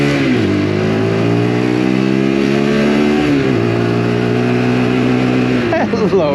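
A Lexmoto LXR 125cc motorcycle engine revs up steadily, pitch climbing and dropping as it shifts up to fourth gear, loud and close with wind noise.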